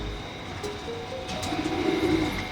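Pigeons returning home give soft low cooing calls over faint background hum and ambient noise, with the cooing growing a little stronger toward the end.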